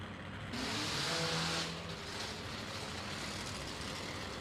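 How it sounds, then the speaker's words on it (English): Two tuned drag racing motorcycles at a Fuel Tech World Finals event rumble at the line, a loud sustained engine roar with a brief surge of revving, crackling exhaust. "There's a good cackle to both engines."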